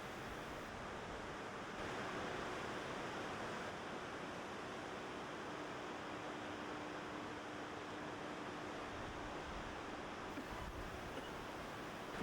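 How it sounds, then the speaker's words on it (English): Rushing water roars in a steady, dense wash of noise, unbroken and constant throughout, as about 10 million gallons per minute pour through a 330-foot opening at Reversing Falls, Saint John, New Brunswick. "10 million gallons of water per minute pour through a 330-foot opening"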